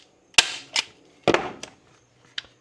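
A handheld staple gun fires staples into plastic: several sharp, loud snaps spaced irregularly, each with a short clattering tail, close by with no talk.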